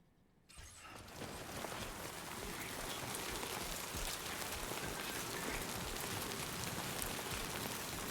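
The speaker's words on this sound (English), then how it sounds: "Looks like the timefall's been pretty relentless." Heavy timefall rain in Death Stranding 2 comes in abruptly after a quiet start, then settles into a dense, steady hiss of drops pattering on surfaces, loud and close, with no voices.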